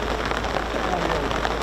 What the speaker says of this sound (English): You can probably hear that really heavy rain just coming out.